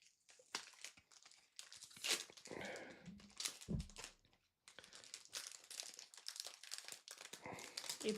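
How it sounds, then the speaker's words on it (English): Foil trading card packets for AFL cards are torn open by hand, giving crinkly, crackling rips and rustling in bursts across the whole stretch, close and fairly loud, with no talk. "It'd be a lot quicker if these packets were easier to rip"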